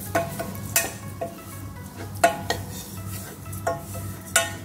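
Spoon clinks and scrapes in a small bowl as dates and oats are mixed for a fresh-date kheer, with soft repeated clatter at an irregular rhythm, close and fairly quiet.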